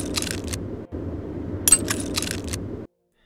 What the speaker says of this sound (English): When the tumbler reaches the top of its chamber, you will hear a distinct double click or tink.